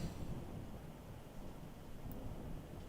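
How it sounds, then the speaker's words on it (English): Thunder during a severe storm at Cordell rolls as a faint, distant low rumble, blended with steady rain and wind noise, with no voices. "And that's the sound of thunder there at Cordell."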